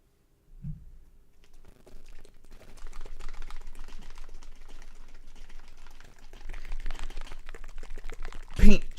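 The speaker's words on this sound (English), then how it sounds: "Paint shake ASMR" A paint container is shaken in a fast, rattling, clicking rhythm that builds over several seconds and ends in a louder burst, with a voice talking over it.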